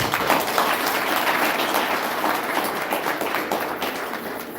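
An audience at the launch of a book and wellness center breaks into a sustained round of applause, a dense, even wash of many hands clapping that stays steady throughout.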